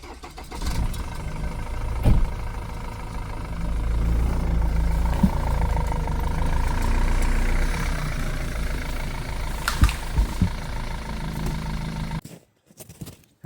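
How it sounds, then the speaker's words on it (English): A Ford 4600 tractor engine pulls hard while working in a Finnish forest, its low diesel rumble rising and holding steady at close range with occasional knocks and creaks before it cuts out abruptly near the end. "Gotta pull it with the tractor"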